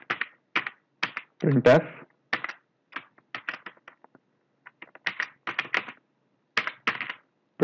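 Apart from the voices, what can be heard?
typing C code on a computer keyboard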